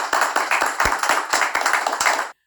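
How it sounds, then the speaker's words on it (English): Audience at a casual comedy talk show clapping together in a quick, close, uneven burst of hand claps that stops abruptly after a couple of seconds. "Everybody, clap."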